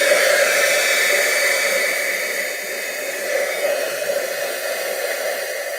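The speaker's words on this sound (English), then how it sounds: "gonna grab our heat gun and dry that up" A heat gun drying alcohol ink on a craft surface blows as a loud, steady hum with a broad airy rush that barely changes throughout.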